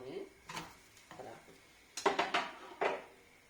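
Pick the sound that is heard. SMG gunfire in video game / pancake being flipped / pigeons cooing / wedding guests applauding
pancake being flipped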